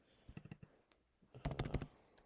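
Quiet bursts of typing on a computer keyboard: a few soft separate keystrokes, then a pause, then a quick cluster of sharper, louder clicks close to the microphone.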